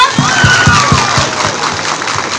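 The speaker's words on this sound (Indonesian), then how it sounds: "Tepuk tangan untuk kita semuanya" A crowd of high school students claps in a steady, rhythmic beat, loud and near, with a few voices calling out over the clapping, at a Youth Pledge Day ceremony.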